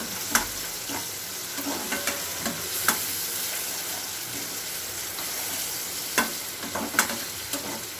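Ginger garlic paste frying in a pan for a Telangana-style fish curry, with a steady close sizzle and the scrape and clack of a spoon stirring at intervals, and no talking.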